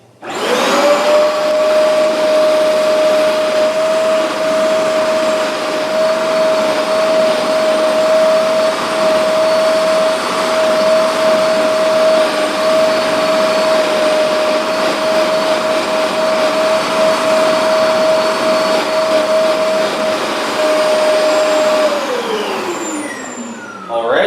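A Hoover MaxExtract 60 PressurePro carpet cleaner runs loud and close over a car floor mat, holding a steady whining motor drone for about twenty seconds before winding down at the end.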